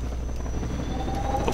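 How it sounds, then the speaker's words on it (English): A Half-Life 2 helicopter drones as a low, steady engine rumble with a faint high whine above it, continuous and fairly close, with no voices. "The helicopter colliding with the building."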